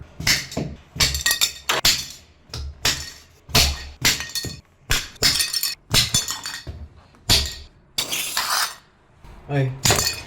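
Self-leveling tile spacer clips are snapped off a freshly laid tile floor one after another, sharp cracking breaks in a quick irregular series with clinking pieces, close and loud.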